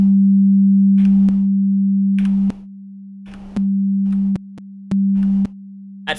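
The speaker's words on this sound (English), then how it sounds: "you can hear how it grows and shrinks based on the phase relationship of the two waves" Two combined sine waves forming a steady pure tone that steps between louder and quieter levels as the phase delay changes, with faint clicks at each switch.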